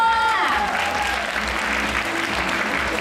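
Applause erupts at a charity donation event for a birthday, dense and steady clapping with a brief tonal sound at the start and a faint voice beneath.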